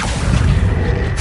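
Accio summoning spell cast in Hogwarts Legacy on PS5, a dense booming whoosh that swells and holds for about a second before cutting off, loud and close with no talking.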